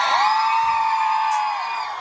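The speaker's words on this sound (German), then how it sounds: "Gib mir mal einen großen Applaus für das Team" A concert audience at a Choke Tour show in Bremen cheers the stage crew with loud, high-pitched whooping and screaming that holds steady for two seconds and fades a little at the end.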